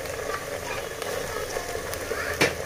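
Ginger garlic paste sizzles in hot oil while a chicken biryani masala cooks, a steady close crackle running throughout with a brief sharper spatter near the end.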